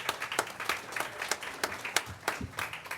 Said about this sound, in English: You got a round of applause, Nadia.